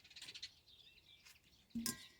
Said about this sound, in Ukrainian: Горобці тут мені співають.